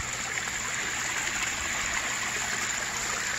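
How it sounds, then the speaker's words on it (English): A pond pump pours water into a backyard pond, giving a steady, close rushing flow with no breaks or voices. "I hear the pump flowing"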